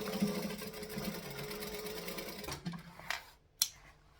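A sewing machine stitching and back stitching a bag runs at a steady rapid whir for a couple of seconds, then stops with a few short bursts and a sharp click.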